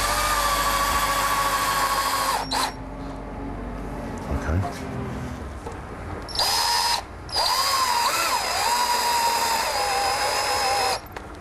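A power drill drives screws into a wooden window frame, its motor whining loud and close in several long bursts that rise and dip under load, separated by brief pauses.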